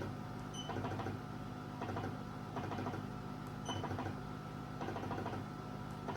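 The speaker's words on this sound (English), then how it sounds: "I'm just listening to the suction." A body sculpting machine's suction pump works in a steady, faint mechanical hum with rhythmic pulses roughly once a second, heard alone without talk.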